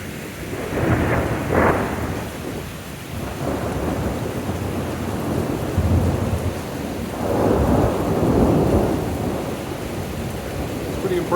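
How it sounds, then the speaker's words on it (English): Andean thunderstorm over Urubamba, Peru, with steady heavy rain and deep rolling thunder that swells in broad rumbles, the loudest coming late in the clip, close overhead and continuous. "A big Andean thunderstorm that's rolled in."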